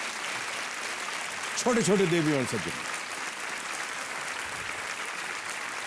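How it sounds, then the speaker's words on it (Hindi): Steady studio audience applause on the set of the TV quiz show Kaun Banega Crorepati, continuing throughout while a male host's voice speaks over it briefly in the middle. "तालियां बजती रहनी चाहिए देवी और सज्जनों"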